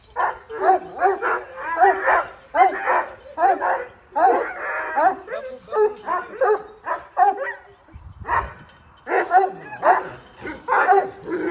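Several dogs bark repeatedly in quick, overlapping bursts, loud and close, with some yips and whimpers mixed in and a person's voice breaking in at times.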